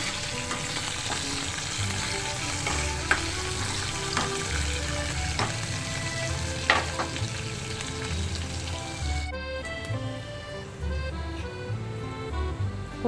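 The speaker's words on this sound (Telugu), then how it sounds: "ఇవన్నీ దోరగా వేయించుకుంటున్నానండి" Dried red chillies, tempering seeds and onion frying in oil for jeera rasam, a close, continuous sizzle with crackles and occasional stirring clinks and scrapes, with a steady low hum underneath.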